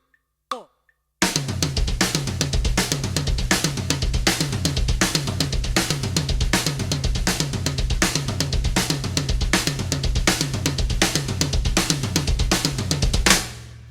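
A drum kit plays fast, clean and evenly spaced double bass drum fills as a dense, steady stream of kick hits under cymbals, loud and close, after a brief count-in click.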